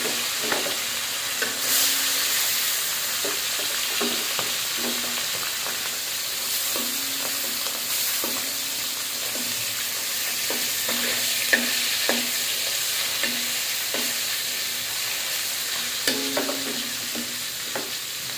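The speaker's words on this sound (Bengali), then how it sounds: "তেলটা আমার গরম হয়ে গেছে, মাছটা ভাজি করে নেব" Jatka fish frying in hot oil in a home kitchen, a steady close sizzle with faint clinks of a spatula now and then, no voices.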